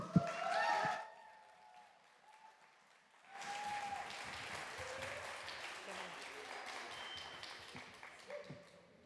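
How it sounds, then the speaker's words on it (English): Applause for students at a founding lab event, with a short burst of clapping, a quiet gap, then renewed sustained clapping from a small crowd, a few louder hand claps and light background voices mixed in. "a very heartfelt, loving, caring, warm round of applause for the students"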